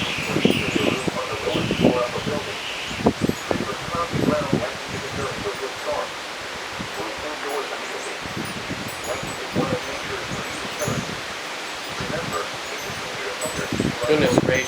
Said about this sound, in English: Those were not 70 mile an hour winds.